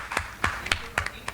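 A handful of scattered, sparse claps from a small quiz audience, about half a dozen separate hand claps, soft and somewhat distant.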